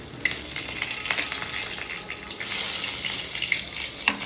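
Green chilies frying in a pan for poa fish curry, a bright steady sizzle with small crackles and a couple of light clinks, close and without talk.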